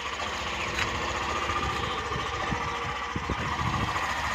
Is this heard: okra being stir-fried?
no